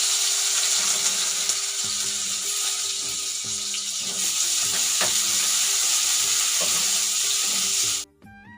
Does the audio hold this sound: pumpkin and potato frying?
yes